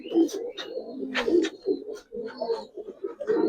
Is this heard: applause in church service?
no